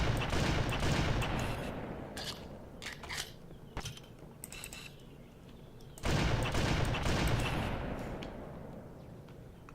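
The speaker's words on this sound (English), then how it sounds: "Who's shooting?" Video game gunfire crackles in loud rapid bursts: a heavy volley, scattered sharp single shots fading for a few seconds, then another strong burst that trails off, with no voices.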